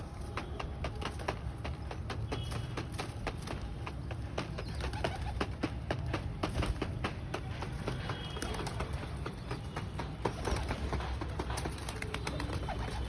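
Soft pigeon coos and bird calls repeat over a steady, noisy background with scattered clicks and taps throughout.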